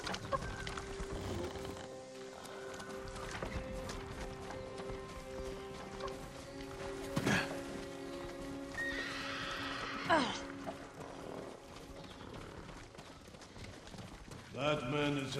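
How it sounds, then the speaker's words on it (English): Horses in Ghost of Tsushima gallop with steady clip-clop hoofbeats while several neighs and whinnies ring out, one sharp cry near the middle and more toward the end, over game music and ambience. "Follow those horses."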